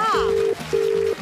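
Ringback tone of an outgoing phone call to a viewer on a Singapore TV prize game show: two long, steady, loud tones separated by a short gap, over a faint background murmur.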